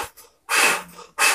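Forceful breaths blown out through the mouth during an anxiety-relief breathing exercise, two strong close whooshes separated by short pauses, preceded by a softer puff.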